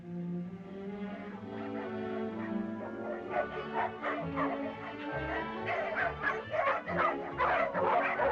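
Several dogs bark and yip together in a 1938 film scene, a steady run of sharp, overlapping barks with some whimpering mixed in, fairly close and lively throughout.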